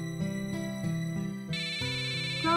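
A melodic ringtone plays steadily, a repeating electronic tune with shifting notes, fairly loud and close, with no talking over it.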